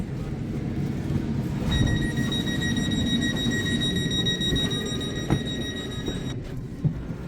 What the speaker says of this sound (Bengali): প্রসঙ্গত এটা কিন্তু হাই স্পিড ট্রেন